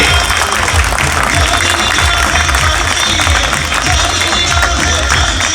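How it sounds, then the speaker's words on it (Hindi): Steady, dense applause from a large crowd, continuous and loud throughout with a broad wash of clapping. "तालियां 1 मिनट तक बजनी चाहिए।"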